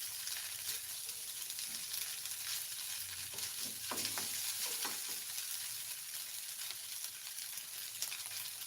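Village-style Indonesian fried rice sizzles and crackles in oil in a pan, a continuous frying hiss broken by occasional scraping stir strokes of a spatula, with nobody speaking.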